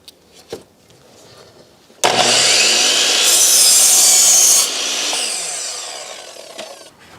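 A table saw cuts wooden rafter tails at a 10-degree angle for a chicken coop roof. After a few faint knocks it starts with a sudden loud rasping whine that holds for several seconds, then dies down.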